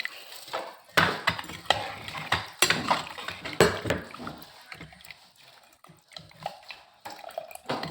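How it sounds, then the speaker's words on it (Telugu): Water poured from a mixer jar into mutton gravy, splashing close by in uneven bursts and trickles over about eight seconds, with no talk. "ఇప్పుడు ఇదే మిక్సీ జార్లోకి నీళ్ళు తీసుకొని మన గ్రేవీ ఎంత కావాలో చూసుకొని వేసుకోవాలి"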